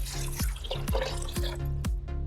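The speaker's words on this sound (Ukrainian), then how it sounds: "Беремо 200 грамів креветок та розморожуємо їх, заливши холодною водою" Cold tap water runs steadily over 200 grams of frozen shrimp in a kitchen to thaw them, with a series of regular, evenly spaced splashes or knocks recurring about twice a second over the continuous close flow.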